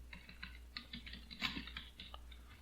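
Quiet, fairly steady keyboard typing patters along in soft clustered clicks over a low constant hum, close but faint with no voices.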